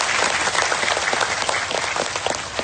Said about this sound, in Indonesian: Saya minta tepuk tangan dulu buat Kepala Desa kita Bapak Juwahir.